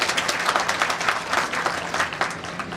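An audience at a committee program in Chhoti Mewat claps loudly for an MLA. The applause is close and vigorous, with a rhythmic, pulsing quality, and it continues throughout.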